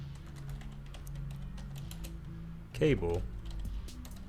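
Quiet clicking of keys typed on a computer keyboard in a rapid, steady patter, with a speaking voice over it and a short louder vocal moment near the end.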